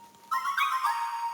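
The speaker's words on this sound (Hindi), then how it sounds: "हुकुम, आपके लिए फोन है, मुंबई से बात करेंगे?" An electronic telephone ring chirps in short warbling bursts after a brief quiet moment, clear and fairly close, with no talking.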